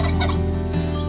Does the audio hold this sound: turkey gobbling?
yes